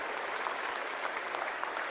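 Audience applause at a Conservative political rally in Stoney Creek, Ontario, a steady, even wash of many hands clapping, fairly faint and distant, with no speech over it.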